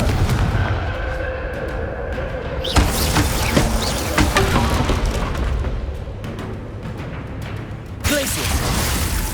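Repeated Confringo blasting-spell explosions in Hogwarts Legacy, sharp booming bursts over a dense, continuous roar of combat, with a big hit near three seconds and another near eight, loud throughout.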